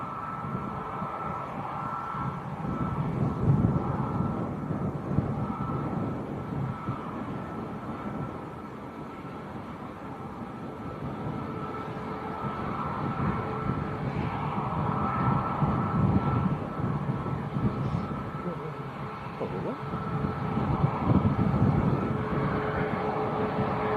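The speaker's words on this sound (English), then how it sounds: "Ryanair to Alicante, and this is a 738 MAX" A Ryanair Boeing 737 MAX 8 bound for Alicante at Leeds Bradford Airport gives off a steady, distant jet roar. The broad rumble swells and eases slightly across the whole stretch, with no voices.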